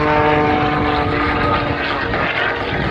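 Skip Stewart's aerobatic propeller airplane Prometheus tumbling during an air show in Gaylord, Michigan, its engine droning loud and continuous with a strained, wavering pitch, no talk.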